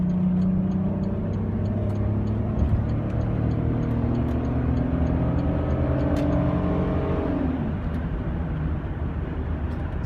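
A 2005 Chrysler Pacifica Touring pulls from about 35 to 65 mph, its engine note rising steadily through upshifts inside the cabin, with continuous road and tire roar and no talking.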